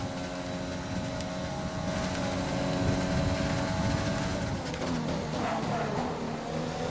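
Formula 1 racing car engine in a video game at the Spanish Grand Prix, a steady loud droning roar that holds for several seconds with a slight pitch shift near the end, heard alone.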